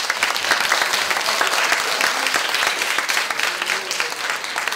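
An audience at a youth unification debate final applauds student debaters with dense, sustained clapping, loud and even, continuing throughout.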